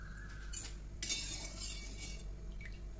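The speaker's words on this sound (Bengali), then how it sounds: "খুন্তিটা দিয়ে ভালো করে নাড়িয়ে চাড়িয়ে নিতে হবে।" A spatula stirs milk boiling over a high gas flame in a pan, a quiet bubbling bed broken by a few light metallic clinks and scrapes.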